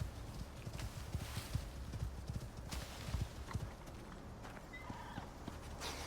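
A horse in the survival video game ICARUS gallops with rapid, rhythmic hoof clops, moving over rough ground amid outdoor ambience, with a brief whinny near the end.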